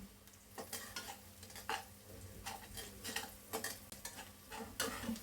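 Spices with turmeric, chili powder and salt fry quietly in a pan, a faint sizzle broken by soft, irregular scrapes and taps as they are stirred.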